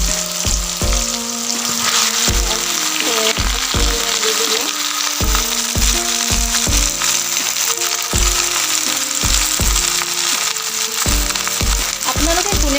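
Malabar spinach (pui shak) frying in a hot pan, with a loud, continuous sizzle close by across the whole stretch and occasional stirring clatter mixed in.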